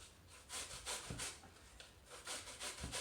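Onion grated by hand into a potato salad mix, giving repeated close scraping rubs in an uneven rhythm, each stroke a soft rasp against the grater.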